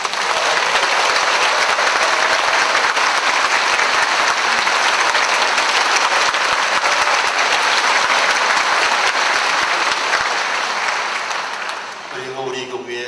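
A church audience at a martyrs' commemoration gathering in Gangneung gives steady, dense applause welcoming visiting priests, loud and continuous for about twelve seconds before thinning out at the end.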